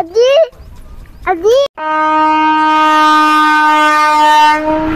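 A slow-moving train sounds two short horn blasts, then one long, loud, sustained horn close by, with a low rumble of the train underneath.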